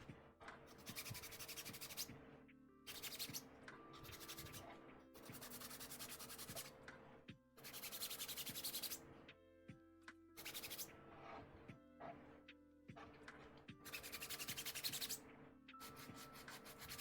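Plastic cosplay armor part being sanded flat by hand, close and crisp, in repeated long scraping strokes separated by short pauses.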